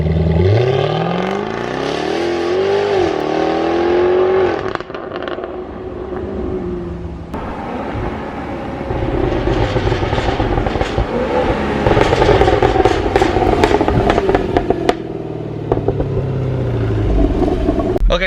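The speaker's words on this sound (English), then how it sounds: "So that's the 0 to 60 launch." A Jaguar F-Type R launches hard from a standstill in a 0 to 60 run, the engine note climbing through rising revs and gear changes, loud and close before fading as the car pulls away.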